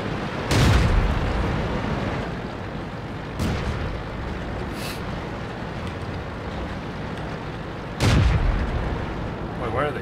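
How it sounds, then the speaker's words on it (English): Three heavy tank cannon shots boom out in a World of Tanks battle, at about 0.6, 3.4 and 8 seconds, each a loud broadband blast with a rumbling tail over continuous engine and battlefield noise, with a voice talking throughout. "Wait, why are they shooting already?"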